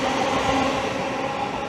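A train runs through Stevenage station on the East Coast Main Line, a loud steady rumble and roar with faint rail clatter, close by and continuous, with no talk over it.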